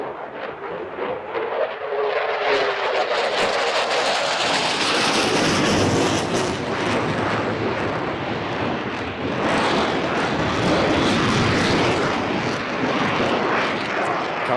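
Royal Danish Air Force F-16 fighter jets fly a display at the Farnborough International Airshow, a loud, sustained jet roar that swells and rumbles continuously throughout with no break.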